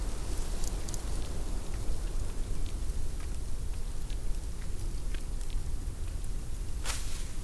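Steady rainfall in the video game Deponia Doomsday, a dense, continuous patter of drops at an even level with scattered sharper ticks and one brighter splash near the end.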